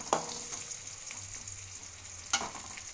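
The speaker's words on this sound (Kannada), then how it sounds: "ಅದ್ರ ಸಲುವಾಗಿ ಮೊದಲೇ ಸ್ವಲ್ಪ ಶಾಲು ಫ್ರೈ ಮಾಡ್ಕೊತಾ ಇದ್ದೀನಿ" Eggplant slices shallow frying in a pan give a steady, even sizzle close by, broken by two sharp utensil clinks.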